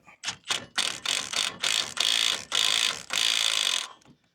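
Self-tapping screws are driven with a ratchet during a Roadmaster Comfort Ride suspension upgrade. About eight close, loud bursts of rapid ratchet clicking follow each other with short pauses, and no one speaks.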